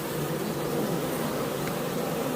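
Honeybees buzz in a steady, dense drone around a wooden beehive, with many insects heard together up close throughout, with no talking.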